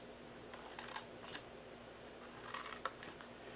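Scissors snip through paper while a reindeer-shaped Christmas gift box is cut out by hand, a few quiet, close crisp cuts spaced over a low steady hum, with no talking.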